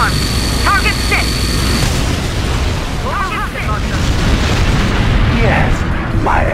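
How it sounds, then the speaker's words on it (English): Rocket salvos and explosions from a mobile rocket launcher in the strategy game Red Alert 2, a dense, continuous rumble of booms with whooshing launches layered over it, loud and sustained throughout, with faint voice-like chatter in the mix. "Mobile rocket launcher. Fire!"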